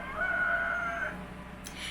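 A rooster crows indoors or nearby, one drawn-out call over a steady low background hum, clear and moderately loud, with no one talking over it.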